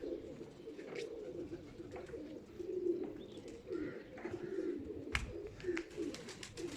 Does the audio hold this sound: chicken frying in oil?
no